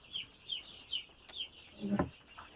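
Broiler chickens in a home coop cluck in short repeated calls, several birds close by, with a louder squawk near the end and no talking.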